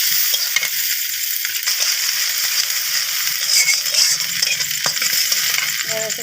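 Prawns and onions fry in hot oil in a pan, giving a loud, continuous close sizzle broken by the scrape and clink of a utensil stirring them.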